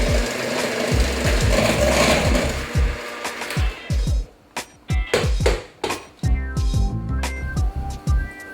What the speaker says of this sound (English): We then add the eggs one at a time and mix until almost completely integrated before adding the next egg